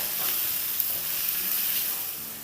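Green chillies, some of them jalapeños, sautéing in a pan, giving a dense, even sizzle that holds steady and eases slightly at the end.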